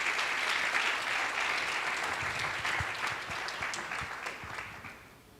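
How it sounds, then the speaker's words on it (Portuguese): A church congregation at a youth gathering applauds in steady, dense clapping that fills the room and tapers off toward the end, with no talking over it. "Você pode aplaudir Jesus,"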